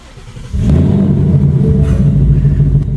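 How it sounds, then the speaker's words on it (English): A 2020 Ford Mustang GT with long tube headers fires up in a warm start inside a parking garage and settles into a loud, deep rumbling idle, steady and close after a brief quiet moment at the start. "that warm start was very loud"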